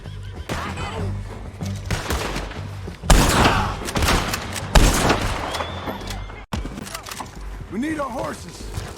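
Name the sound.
horses neighing during gunfight in Red Dead Redemption 2 video game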